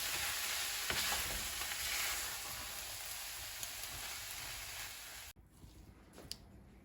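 Potato and beef filling frying steadily in a pan, a continuous close sizzle with light stirring that cuts off abruptly near the end, leaving a quieter background.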